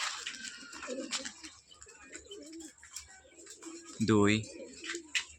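Giribaz pigeons coo near a loft, soft repeated low calls that swell into one louder, close coo, while someone speaks intermittently over them.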